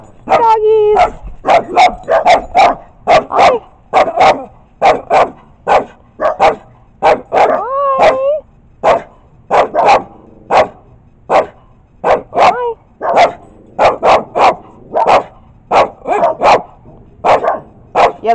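Several dogs bark in quick, repeated bursts, with some higher yips and a short whine mixed in, loud and close and going on throughout.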